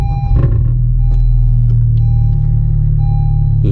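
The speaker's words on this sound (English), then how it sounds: "On a cold start, the front pipe rattles really badly." A 2021 Honda Civic Type R with a MAP exhaust idles just after a cold start, a loud steady low rumble with a faint metallic rattle from the front pipe, a few brief higher clicks overhead.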